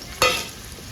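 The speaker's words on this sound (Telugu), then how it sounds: "ఫ్రై అయింది దీంట్లో కట్ చేసుకున్న ఉల్లిపాయలు" Chopped onions hitting hot oil in a home kitchen give a sudden loud sizzle that flares up then settles into a steady frying crackle, close and with no talk.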